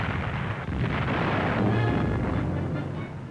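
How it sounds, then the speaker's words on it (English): Heavy roar of British naval guns firing 15-inch shells, with crashing explosions rolling into a continuous deep rumble, loud and sustained with no speech. "The roar of naval guns is followed by the crashing explosion of 15-inch shells"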